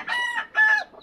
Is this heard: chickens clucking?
yes